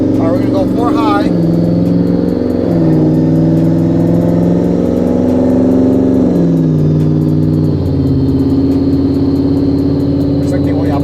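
A 2024 Ford F-150 pickup with twin turbos accelerates loudly up close, its engine note climbing and holding through several gear changes in steady, sustained bursts.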